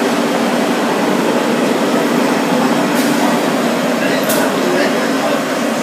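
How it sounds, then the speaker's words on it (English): A busy Central Station hums with a dense, steady roar of trains and crowd noise, loud and unbroken, with a couple of brief sharp clanks partway through. "This is Central Station, pretty busy station."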